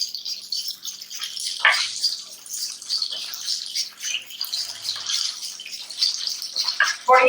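Taro root (arbi) frying in a pan: steady bright, watery sizzle that swells and eases in bursts, close and fairly loud, with no talking.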